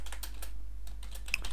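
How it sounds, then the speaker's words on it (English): Rapid, close keyboard typing, a quick burst of key clicks, a short pause, then more clattering keystrokes over a low steady hum. "aggressive typing,"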